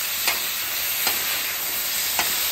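About two tablespoons of butter melting on a hot griddle, giving a loud, steady, dense sizzle with three faint ticks spaced evenly through it and no talking.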